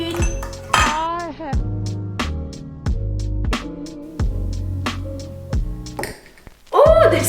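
A teeny spoon clinks and taps against a glass of thick Dalgona whipped coffee, about a dozen close, bright strikes in an uneven rhythm, with some soft vocal sounds in between.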